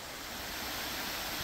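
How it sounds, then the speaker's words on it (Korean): A waterfall in a mountain valley along a winter stream roars as a dense, steady rushing wash of broadband noise, loud and continuous throughout. "와, 멋있는 폭포가 있네요."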